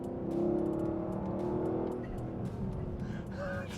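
A 2023 Lexus LC500, rear-wheel drive, takes a corner with a steady engine drone throughout, faint tire squeal, and no talking.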